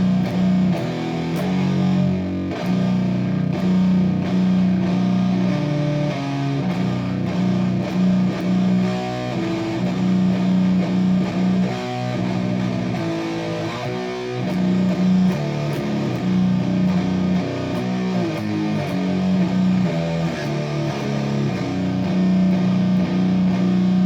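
Electric guitar runs through Catastrophe and Rat distortion pedals, giving a thick, fuzzy, saturated tone that plays steady chords and riffs for the whole stretch, loud and unbroken with no speech.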